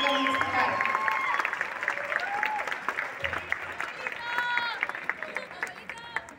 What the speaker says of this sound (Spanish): les pido un aplauso para el maestro Esteban, arreglista de la Banda Sinfónica Musical